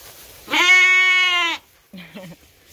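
A sheep in a pen shared with puppies lets out one loud, drawn-out bleat lasting about a second, followed by a couple of softer, shorter animal sounds close by.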